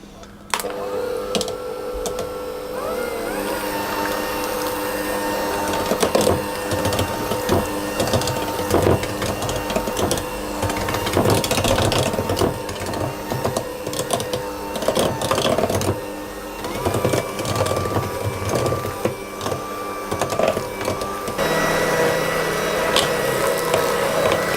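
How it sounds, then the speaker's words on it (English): An electric hand mixer beats cupcake batter for peach puree cupcakes, a loud continuous motor whir that shifts in pitch as the beaters work through the mix, with no talking over it. "mix them with my hand mixer until it's all combined"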